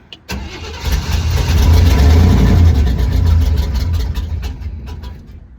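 A 1986 GMC K15 pickup, parked for more than five years, cranks and catches, then its engine settles into a loud, rough rumble with some revving, close by and with no talk.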